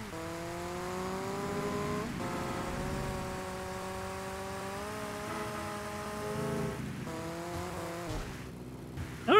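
A motorcycle in GTA Vice City Stories on PlayStation 2 rides with a continuous, close engine whine whose pitch rises and dips as it shifts and accelerates, briefly cutting out near the end before a sudden burst.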